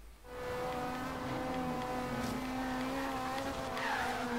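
Car in Forza Horizon 3 suddenly sliding sideways at 200 km/h, tires squealing in a long continuous skid over a strained, droning engine, loud and sustained throughout.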